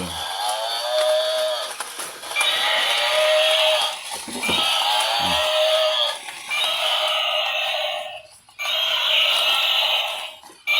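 A battery-powered toy buffalo plays its recorded animal call, a bleating electronic cry repeated about four times in loud, even bursts separated by brief pauses.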